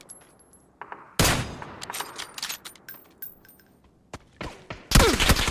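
Video game gunfire in a battle royale match, scattered sharp shots and bursts, some loud and close, others fainter, with a heavy volley at the end.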